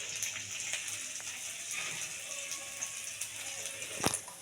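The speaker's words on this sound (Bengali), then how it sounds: "কড়াইতে আমি একটু পেঁয়াজ, লঙ্কা কুচি, রসুন কুচি এগুলোকে আমি ভেজে নিচ্ছি কড়াইতে।" Chopped onion, green chili and garlic fry in a wok, giving a steady, fairly quiet sizzle with scattered small clicks and one sharper tap near the end; no one speaks.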